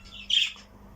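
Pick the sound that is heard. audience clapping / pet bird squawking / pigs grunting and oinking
pet bird squawking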